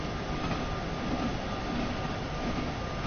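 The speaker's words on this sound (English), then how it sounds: "Just let's see what this train can actually do full speed." Steady, continuous rumble of a train running at full speed in Train Sim World on PlayStation 4, a constant rolling roar with a faint tonal hum and no talk.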